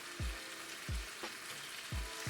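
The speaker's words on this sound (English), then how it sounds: "So I put the butter inside the pan" Irish butter melts and sizzles in a pan, a fairly quiet steady frying hiss broken by several soft thuds as the pan or contents shift.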